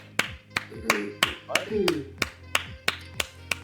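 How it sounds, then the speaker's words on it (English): A slow, steady run of about ten single hand claps, evenly spaced, with a voice talking over them. "That deserves a clap."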